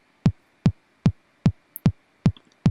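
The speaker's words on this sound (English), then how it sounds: "Then I just grab a sample from some sample pack with a 909" Short, shortened 909 kick drum sample for a hardstyle kick; seven punchy thumps repeat at an even, steady pulse, dry and alone, with a faint tick or two between hits.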